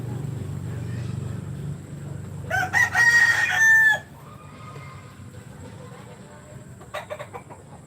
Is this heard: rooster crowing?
yes